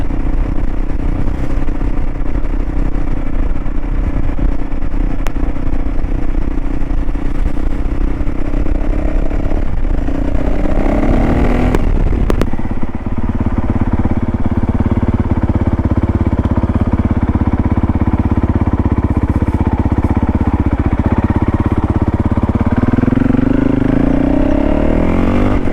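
A Honda CRF450L rally motorcycle being ridden, its engine a steady loud drone with wind roar, pitch shifting slightly as the rider varies the throttle mid-ride.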